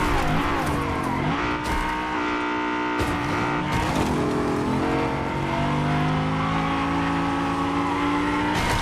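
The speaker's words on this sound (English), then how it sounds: "There's two people in a car in front of me." Car driving in the Fortnite video game, engine revving up and down with shifting tones, tire squeals and skids, loud and continuous throughout.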